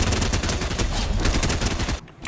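Rapid, continuous SMG fire in the Fortnite video game, a dense close burst of shots that cuts off briefly near the end, with no voices.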